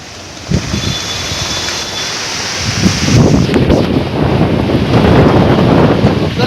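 A strong wind and rain storm in Doboka batters the microphone with loud, roaring gusts that swell noticeably after the first few seconds and stay heavy to the end, with no speech.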